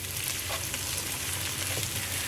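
Chili paste sizzles and fries steadily in hot oil in a pan for fried kuey teow, a continuous close, bright crackle with no voices.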